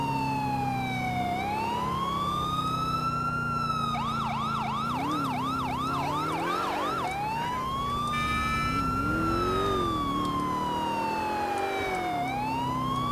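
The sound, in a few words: police car siren in video game GTA IV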